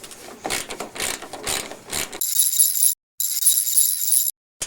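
A ratchet fitted with an extended socket and extension loosens a hidden bolt during a car fender replacement. A few handling taps come first, then two quick bursts of crisp, rapid close-up clicking.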